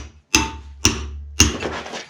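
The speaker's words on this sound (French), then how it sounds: "je l'ai fini au ciseau à pierre" A broad, thin-faced stone chisel is struck with a hammer to finish-dress stone for a vault: three sharp, close strikes spaced about half a second apart, the last one trailing into a gritty scrape.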